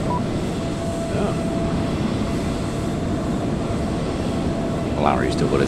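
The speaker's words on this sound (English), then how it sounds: "Larry's still got his engines on." A steady, loud broadband roar of idling aircraft engines on the ground in Microsoft Flight Simulator, continuous throughout, with faint speech layered over it.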